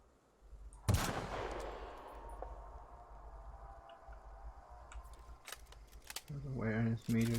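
Sharp gunshots in the video game The Outer Worlds: one loud close shot early, then scattered lighter clicks and cracks, with a voice talking near the end.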